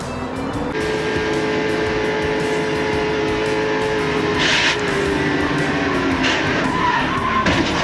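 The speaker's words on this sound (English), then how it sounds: "Car spinning up into the wall, mid-pack" NASCAR race cars spinning mid-pack and crashing into the wall, a loud steady roar of engines with tire skid squeals and a brief impact burst midway, crowd-like wash throughout.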